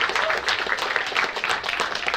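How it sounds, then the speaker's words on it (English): An audience applauds at a powerlifting meet, with dense, steady clapping throughout that stays fairly close and even. "Round of applause again for these boys"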